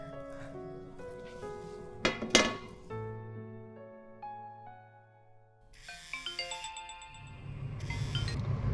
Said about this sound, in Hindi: अरे सन्ना का फ़ोन?